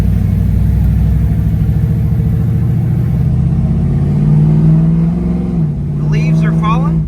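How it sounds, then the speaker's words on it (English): A 1967 Chevrolet Camaro RS engine rumbles loudly and continuously while driving, its pitch rising as it shifts, with a short voice near the end. "we're going to take this 1967 Chevrolet Camaro RS for a test drive"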